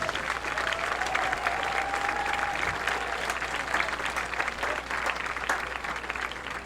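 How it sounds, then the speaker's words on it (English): A crowd at the St. Clair High School homecoming claps in sustained applause throughout, dense and steady with scattered louder claps. "Please join me in a round of applause for our amazing employees."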